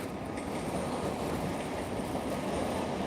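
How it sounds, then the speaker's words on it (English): Trains roll past in a steady, unbroken rumble with a faint metallic rattle; the noise stays loud and even throughout, with no voices. "Just wait for the trains to go by."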